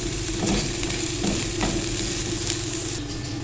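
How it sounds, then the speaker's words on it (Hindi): Chopped onions with finely cut green chillies fry in a pan for a veg cheese sandwich filling, giving a steady, close sizzle with occasional stirring scrapes and no talk. "ये अब इनको थोड़ा सा फ्राई करेंगे ताकि प्याज का कच्चापन ख़त्म हो जाए।"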